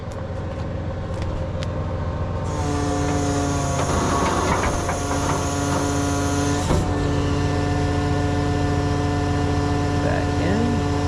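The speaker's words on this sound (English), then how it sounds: "So I am going to come down with the wheel lift." A tow truck lowers its wheel lift onto a cargo trailer. A constant engine drone and hum play under a hissing hydraulic whine that starts partway through and holds steady, with a brief clank near the end.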